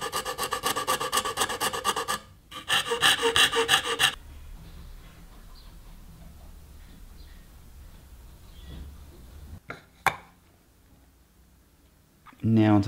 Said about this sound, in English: I'm just going to clean out the rest of the cavity with various files and sandpaper